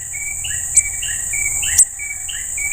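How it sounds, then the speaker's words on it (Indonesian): A male brown-throated sunbird calls close by with repeated thin, high rising chirps in a quick run, over a steady high insect-like drone and faint background noise. "Ini kolibri kelapa ya, kolibri kelapa jantan,"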